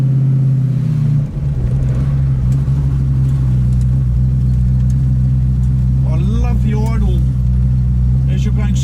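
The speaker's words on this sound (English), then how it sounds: "you just hear that burble of the V8, that nice lumpy sound" 1968 Ford Mustang coupe V8 giving a steady low lumpy burble while driving, loud and close from start to finish, with a voice speaking over it in the second half.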